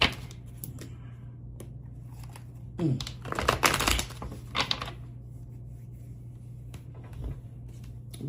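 A deck of tarot cards being shuffled by hand, a brief quiet flurry of papery flicks and riffles amid a soft background hum, with a few faint taps around it.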